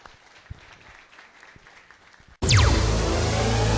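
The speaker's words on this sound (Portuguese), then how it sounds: "Salvo de palmas ao Senhor Jesus" A church congregation bursts into loud applause for Jesus after a quiet stretch of soft room noise, the clapping starting abruptly and continuing dense and full to the end.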